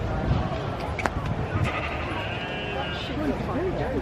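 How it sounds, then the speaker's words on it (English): Sheep bleating at an agricultural show among livestock judging, with short bleats heard amid constant crowd chatter and nearby voices talking. "There's a sheep."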